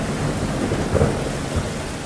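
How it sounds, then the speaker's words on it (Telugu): Thunder rolls in a deep, steady rumble over falling rain, loud and continuous for a couple of seconds. "ఉన్నట్టుండి ఒక్కసారిగా భూమండలం దద్దరిల్లేలా ఉరుమురివింది."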